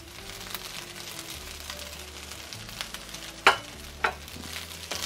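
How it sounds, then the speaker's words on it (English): Wild rice with dried cherries, butternut squash and parsley being tossed in a pan, a soft continuous sizzle and stirring rustle with a couple of sharper spoon scrapes toward the end. "And I'm gonna toss it together."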